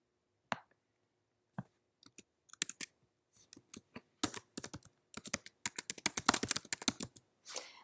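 Listing name being typed on a computer keyboard: sparse single clicks at first, then faster clusters of keystrokes building into steady typing, close and crisp, alone without speech.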